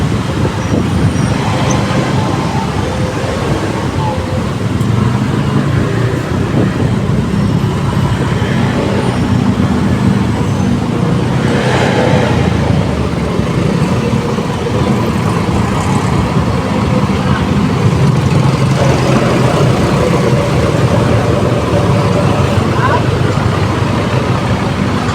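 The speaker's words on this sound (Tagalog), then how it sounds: "Pag hindi traffic dito, talagang ano, ang bibilis sa takbo ng mga sasakyan dito." Fast vehicles stream along C5 road in Pasig, including cars, buses and trucks, making a steady loud roar of tires and engines that never lets up, with a voice speaking now and then.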